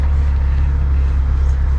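A 2022 Ford Bronco crawls off-road at about 3 miles an hour. Its engine gives a loud, steady, low drone that holds an even pitch with no breaks.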